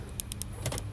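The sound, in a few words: 2004 BMW M3 door locks actuated by key remote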